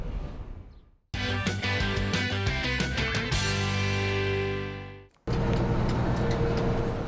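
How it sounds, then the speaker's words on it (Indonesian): A driverless truck on a highway, heard as steady road and engine roar broken by two abrupt cuts, with some tonal hum in the middle section and no talking. "Truk tanpa supir."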